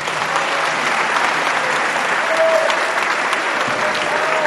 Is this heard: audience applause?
yes